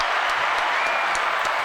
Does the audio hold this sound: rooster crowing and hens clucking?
no